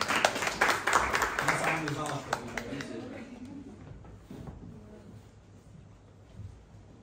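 Audience applause at a presentation event in Moscow: a burst of clapping over the first few seconds, fading out as a voice begins speaking under and after it.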